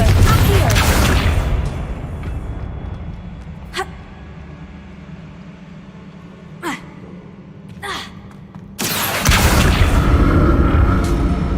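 Confringo blasting spells go off in the Hogwarts Legacy game: a loud burst at the start, sharp cracks in between, and another heavy blast near the end, with some gasping vocal sounds.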